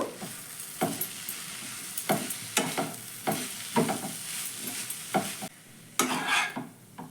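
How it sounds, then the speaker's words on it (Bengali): Ground spices and garam masala being mixed into shredded cabbage in a bowl, a series of rustling, scraping stirring strokes in a loose rhythm, close and fairly quiet, with a brief pause near the end. "এবার এই গুঁড়ো মশলাগুলো ভালো করে আমি বাঁধাকপির সঙ্গে মিশিয়ে নেব"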